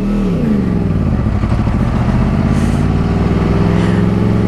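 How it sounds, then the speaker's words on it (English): An MV Agusta motorcycle rolls up in city traffic, its engine droning loud and close with a rising then settling rumble that stays steady throughout, heard beside a 2011 Yamaha YZF-R1 crossplane. "Yep, Pasha is here with the MV Augusta"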